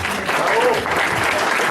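An audience applauds professor Aranceta at the close of a lecture, with steady, dense clapping filling the room from start to finish.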